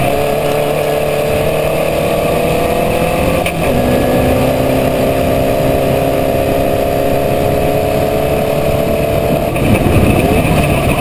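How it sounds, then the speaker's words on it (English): Formula Vee race car at full throttle on a circuit in a NSW race, with a steady loud engine drone that dips in pitch around corners and faint tyre squeal mixed in throughout. "You can hear all through this race some squeal from the tyres."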